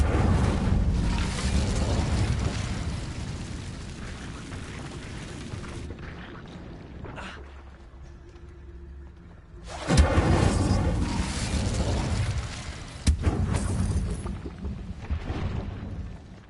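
An Incendio fire spell cast in Hogwarts Legacy on PS5 erupts as a loud whooshing blast, followed by a quieter lull with a low hum, then another roaring burst and crackling fire flaring up.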